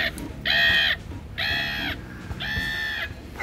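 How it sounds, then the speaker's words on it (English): Three loud, raspy caws from Halloween animatronic crows in a hardware store display, each about half a second long and evenly spaced, heard close up with no talking. "I love the crows."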